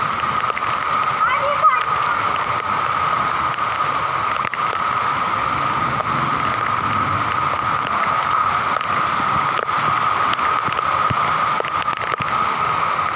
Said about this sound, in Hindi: इस वक्त ज़बरदस्त बारिश हो रही है